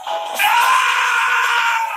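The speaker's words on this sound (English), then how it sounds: "am I the only one who thinks Sonic's death scream as the Warhog is completely over the top?" Sonic's exaggerated death scream as the Werehog in the Sonic Unleashed video game, a loud, strained, sustained howl lasting about two seconds, alone without talk.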